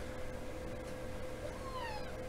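A cat meows once, a short rising-then-falling cry, heard faintly over a steady low hum and background noise.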